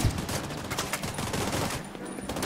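Sustained gunfire from the video game Tom Clancy's The Division 2, a dense, continuous fusillade of rapid shots with overlapping bursts that hold at a steady, fairly loud level throughout.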